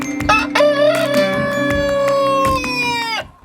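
A rooster crows loudly and close in a coop where hens are kept together with him, a long sustained call with a rising start and falling end, while hens cluck and cackle around it.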